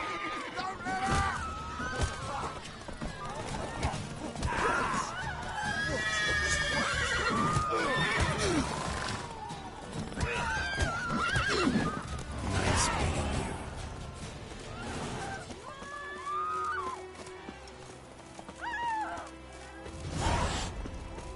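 Roach, the horse in The Witcher 3, neighs repeatedly between bursts of galloping hoofbeats, with voices talking over and between the sounds.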